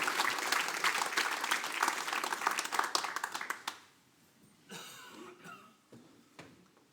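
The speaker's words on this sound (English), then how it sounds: "Give them a round of applause, please." An audience at a country music concert claps in a dense burst of applause for a band for several seconds, then it fades out, leaving a few coughs and scattered faint noises.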